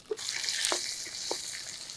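Onions with turmeric sautéing in a pan, a steady soft sizzle with a few quick stirring scrapes and small pops.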